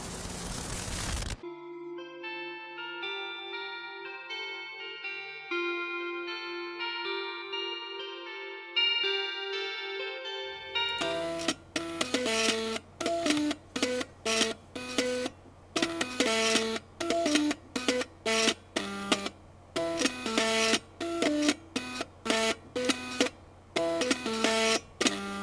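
Floppy disk drives driven by an Arduino play a MIDI tune: buzzy stepped pitches carry a melody at first, then a louder section adds sharp rhythmic clicking and thumping beats under the sustained tones.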